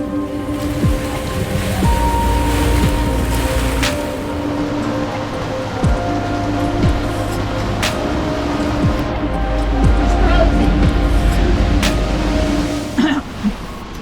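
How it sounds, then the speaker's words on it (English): A storm with rain in Mahon harbour marina, Menorca: a loud, steady wash of rain and wind fills the whole stretch, with a few sharper knocks and clatters standing out. "on Sunday the storm arrived as forecast"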